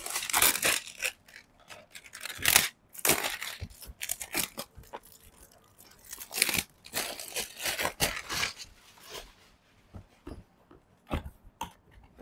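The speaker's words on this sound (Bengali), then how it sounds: "এখন আমি এটা আনপ্যাক করি আর এর সাথে কি কি পাচ্ছেন সবকিছু আপনাদের সাথে একটু শেয়ার করি।" A DJI Air 3S Fly More Combo drone package being unpacked, with bursts of crinkling, tearing and rustling of packaging material, irregular and close, separated by short quiet gaps.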